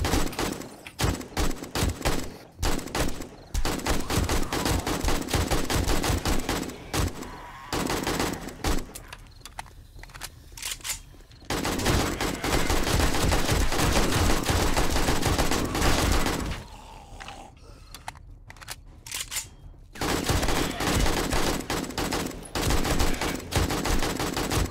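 Long, loud bursts of rapid automatic gunfire from the machine guns in the video game 7 Days to Die, with sustained volleys broken by short pauses and no talking.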